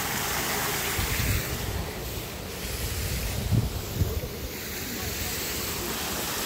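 River water rushing at Bhurjung Khola, a constant broadband roar of flowing water filling the scene, with no clear breaks.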